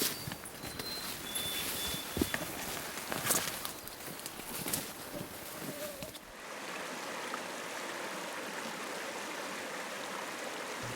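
River water flows in a steady rushing wash, with close scuffs and knocks of footsteps over it at first, then a smoother continuous stream alone.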